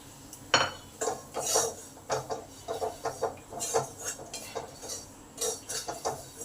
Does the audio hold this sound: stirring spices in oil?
yes